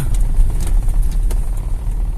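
A Toyota Innova petrol engine idles with the gas pedal fully released, giving a steady, close low rumble with no revving and no talk.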